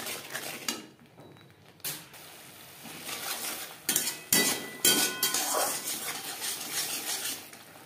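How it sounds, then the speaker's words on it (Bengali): Ground spices, salt and turmeric being stirred into a cooking masala in a pan, with close metal spoon scrapes and clinks against the pan in irregular strokes and short pauses. "মশলার সাথে গুঁড়ো মশলা বেশ ভালো করে মিক্স করে দেব।"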